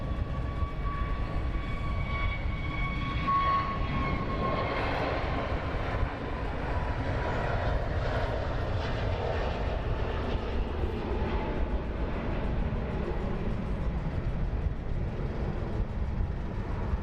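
An inbound aircraft approaches London Luton Airport, its broad engine roar a steady, continuous rumble with a faint whining tone on top, heard from a distance with no talking.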